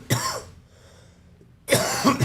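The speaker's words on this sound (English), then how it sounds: "I'm still coughing from it." Someone coughs twice, two harsh, close, loud bursts separated by a short quiet pause, during a cup competition.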